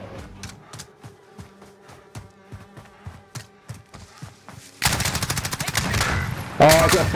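Video-game gunfire: a run of evenly spaced single shots, then a dense, loud burst of rapid fire near the end, with voices faintly underneath.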